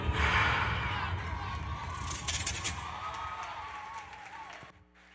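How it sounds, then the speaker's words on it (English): Brief applause and crowd noise from an audience at a youth summer employment programme event, loud at first and gradually thinning out before stopping abruptly near the end. "that applause too short"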